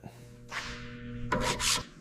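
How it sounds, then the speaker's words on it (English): A power sander grinds pitted rust off a car's rear body metal in rough, raspy bursts, with a harsher, louder pass near the end; close and steady, no talking. "we're just hitting this rear section with the sander now"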